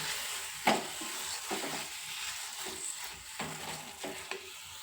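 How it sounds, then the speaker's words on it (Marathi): Eggplant bharit stirred in a pan, gentle sizzling with several scraping strokes and light clinks, close and fairly quiet throughout. "चवीनुसार मीठ टाकून घ्यायचं आपल्याला छान असं खालून घ्यायचं"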